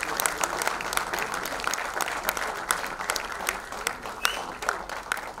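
An audience at a special film screening for Kashmiri Pandits applauds, a fairly faint, thick clatter of many hands with sharper individual claps, while voices murmur underneath.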